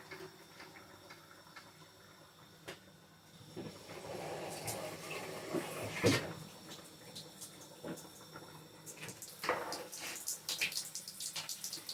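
Water pours from a tap into ground crayfish while okro soup is cooked, a steady splashing stream that swells and patters over several seconds, with clinks and knocks of the container near the middle.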